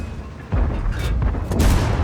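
Two heavy cannon booms about a second apart, each a deep punchy blast with a short rumbling tail, a T-34-85M tank gun firing subcaliber rounds in a game.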